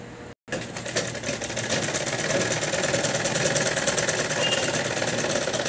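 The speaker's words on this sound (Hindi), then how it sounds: "और फिर यहाँ से हमें टॉप सिलाई हमारी लगानी होगी।" A sewing machine runs steadily while top-stitching a handmade bag, a continuous close mechanical whir that starts after a brief gap and holds at an even level with no talk.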